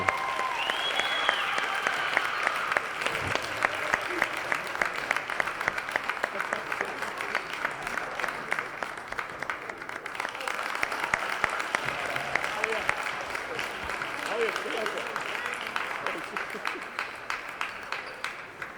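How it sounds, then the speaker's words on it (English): Sustained applause from a crowd in a gym honoring a senior girls' high school basketball player at a home game, steady and dense throughout with some cheering voices mixed in. "Let's give a round of applause to number 13, Alia Ramadan."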